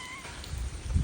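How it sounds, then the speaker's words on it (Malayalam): A household cat gives one short, faint meow at the start, followed by low background rumble during a rainy spell. "പിന്നെ ഇതാ എൻ്റെ ജണ്ട് പൂച്ച, ഇതിൻ്റെ പേര് ബണി, ഇതിൻ്റെ പേര് അപ്പു."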